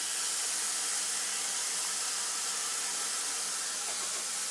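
Chili peppers with lemon juice sautéing in a pan over a low flame, a steady, even sizzle and hiss with no breaks, close and moderately loud.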